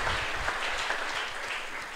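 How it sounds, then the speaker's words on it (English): An audience claps together for a man being commended, a steady dense patter of applause filling the whole stretch at even loudness with no voices on top. "I would like us to clap for that brother."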